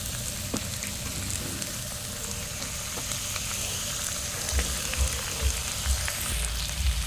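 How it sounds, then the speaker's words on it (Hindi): Chicken sizzling in a pan with ginger, garlic, whole spices and onion for a spicy bhuna masala, a steady close frying crackle with a few low stirring thumps near the end. "अदरक लहसुन खड़े मसाले और प्याज साथ में इसको थोड़ा सा इसको रोस्ट करेंगे चिकन को"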